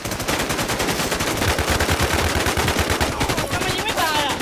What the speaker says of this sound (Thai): ทำไมยิงไม่ตายอ่ะ